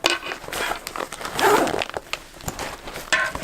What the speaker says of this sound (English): Zips up nice, and then it gives it back in shape.